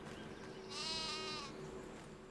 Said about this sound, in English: These are older sheep.